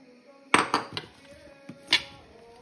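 Utensil working matzo meal and flour into latke batter in a bowl, a few sharp close clinks and knocks spaced unevenly over a quiet background.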